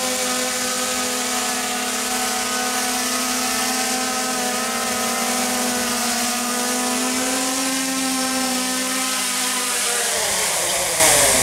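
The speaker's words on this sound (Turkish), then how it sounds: "Şimdi kendi kendine tekrar drone'umuzu aşağıya insin bakalım." Xiaomi Mi 4K drone descending to land, a steady high-pitched rotor whine with a strong tonal hum that drops in pitch as it settles near the end.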